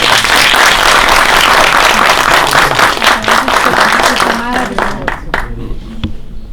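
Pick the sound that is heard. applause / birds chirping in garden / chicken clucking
applause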